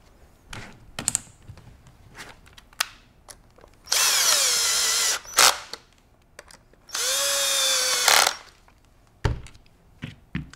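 A power drill drives two screws while a Benelli Lupo bolt-action rifle is assembled, two sustained whirring runs that rise in pitch, separated by clicks and knocks of handling nearby.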